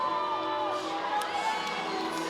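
A professional wrestling crowd cheers loudly and steadily for the wrestler Heavy Rox at an intergender title match, with shouts and whoops rising above a dense roar.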